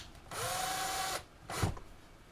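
A power drill driving screws into the bolts of a tie grid whirs in two short bursts, the first about a second long and the second briefer, with a light clunk as it stops.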